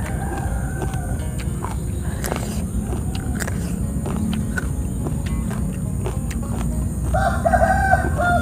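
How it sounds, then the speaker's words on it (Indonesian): A rooster crows near the end, a loud, drawn-out call rising over outdoor background noise and a few scattered clucks. "Suara ayamnya."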